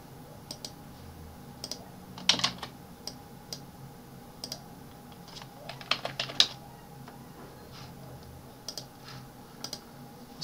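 Keys tapped on a computer keyboard while text is entered in Word 2019, an irregular run of light clicks with a few quick bursts, close and fairly quiet with no talking.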